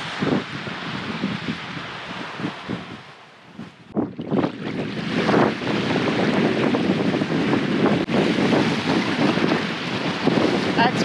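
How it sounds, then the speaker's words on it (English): Strong gusty wind buffets the microphone at a seaside campground in Shark Bay, Western Australia, a loud continuous roar that surges and dips. "Not the nicest day, it's pretty windy."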